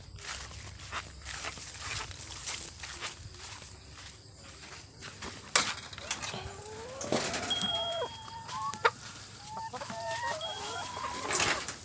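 A flock of about 42 Rhode Island Red crossbred chickens at morning feeding, with repeated clucks and rising calls from several birds over footsteps and scuffling on the ground, all moderately close.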